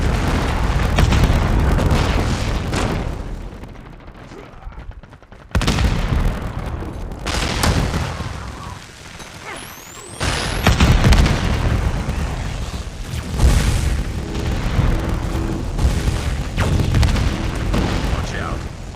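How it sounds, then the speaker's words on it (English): Heavy booms and bursts from predator missile strikes in a multiplayer shooter hardpoint match, loud and layered with gunfire and game announcer voice lines throughout, with a sharp drop to near silence midway before the blasts resume. "Predator missile inbound."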